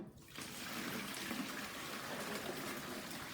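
A half gallon of water pours steadily into a container for brining a turkey, with a continuous splashing gush, fairly quiet and close, lasting the whole time.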